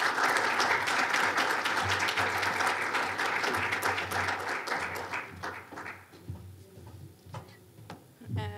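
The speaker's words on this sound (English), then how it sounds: "Please, let's give them a nice round of applause." An audience at an industry presentation breaks into applause, with dense clapping that gradually thins and fades to a few scattered claps.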